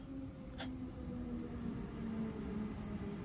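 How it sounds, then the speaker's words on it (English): A train waiting at a station in a video game gives a steady low rumble and hum with a faint tonal whine, continuous and moderately loud, no voices. "Yo, train background."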